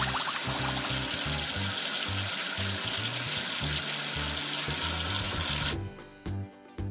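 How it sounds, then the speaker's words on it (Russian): In a children's video game, water runs from a tap in a steady, loud splashing stream, then cuts off abruptly near the end, followed by a few soft drips and clicks. "Смой мыло водой."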